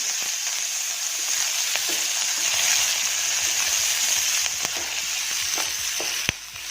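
Onions dropped into hot oil with panch phoron for an Assamese egg curry, a steady bright sizzle that grows fuller midway, dotted with small crackles and a sharp knock near the end.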